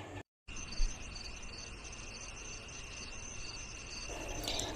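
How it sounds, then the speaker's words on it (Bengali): Crickets chirp steadily through a quiet night outdoors, a continuous high trilling close by and unbroken after a brief silent gap at the start, with no voices. "শুধু ঝিঝি পোকার ডাক শোনা যাচ্ছিল।"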